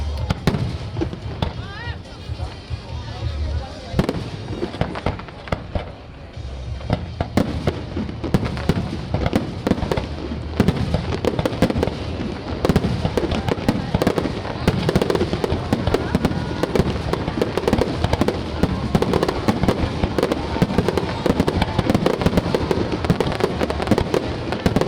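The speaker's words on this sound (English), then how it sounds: "no Canada Day would be complete without it, a massive fireworks display" Massive Canada Day fireworks display at Spencer Smith Park in Burlington, with dense, continuous booms and crackling bursts echoing over a waterfront crowd, loud and sustained, with voices of onlookers mixed in.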